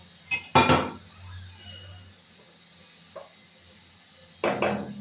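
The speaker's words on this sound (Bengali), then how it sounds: "এবার একটু ঢাকা দিয়ে দিই" A metal lid clanks onto a cooking pot of rohu fish and cauliflower curry, two sharp clattering hits at the start and another rattle near the end, with a quiet hum between.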